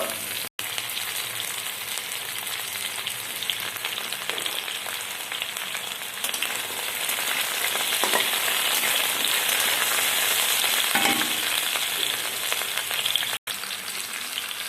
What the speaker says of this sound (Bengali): কেটে রাখা আলু দিয়ে দিলাম। ভালো করে ভেজে নেব।